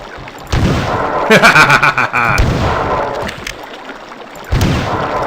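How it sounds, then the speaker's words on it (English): Shotgun blasts in the Marathon 2: Durandal game, heard as several loud, bursting booms in quick succession, with a short stretch of clustered blasts near the middle and a later boom, each one crackling and filling the room. "That was a complete waste of shotgun ammo"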